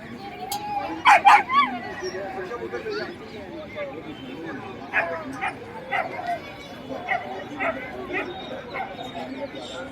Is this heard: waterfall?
no